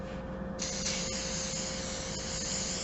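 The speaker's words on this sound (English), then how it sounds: "I hope it's going to spray." A steady hiss of spray from an aerosol can, starting a little way in and continuing unbroken to the end, close and fairly loud.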